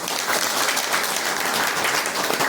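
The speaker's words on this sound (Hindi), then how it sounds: "ताली बजा करके धन्यवाद।" An audience at a Brahma Kumaris gathering in Maharajganj bursts into applause, a dense, loud, steady patter of many hands clapping at once that fills the short moment without letup.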